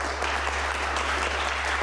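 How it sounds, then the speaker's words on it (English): Audience members at a televised UK election debate between Sunak and Starmer applaud in a brief, dense burst of clapping with a low hum beneath. "The same people are clapping."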